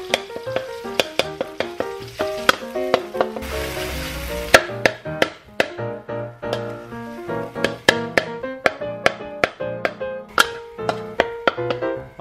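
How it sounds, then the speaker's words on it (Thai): Yellow curry paste stir-fries in hot oil, crackling and sizzling steadily while a spatula clanks and taps against the pan in a quick, irregular rhythm, with one brief louder burst of frying partway through. "เราใส่พริกแกงไปทอดผัดพริกแกงนะครับกับน้ำมัน นี่เราใช้เป็นพริกแกงเหลือง"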